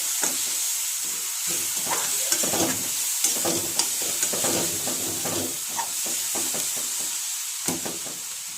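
A spoon stirs capsicum tomato curry in a pan with turmeric and chilli powder, scraping and clinking in irregular close strokes over a steady sizzle of frying with some hiss of steam.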